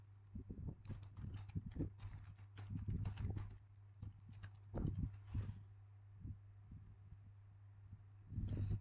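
Light, irregular keyboard typing on a computer while working in an Excel spreadsheet, soft clicky taps in short bursts with pauses, over a steady low hum.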